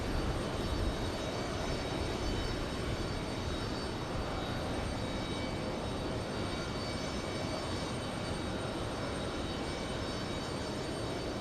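A jet airliner at JFK airport gives off a steady, loud broadband roar that holds evenly for the whole stretch, with no voices over it.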